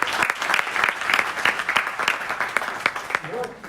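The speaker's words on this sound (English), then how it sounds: "let's first give a big round of applause to Dr. Nanda" An audience at a health seminar in the Hindu Temple Burnaby hall gives a round of applause, individual claps distinct and rhythmic, tapering near the end as a voice begins to speak.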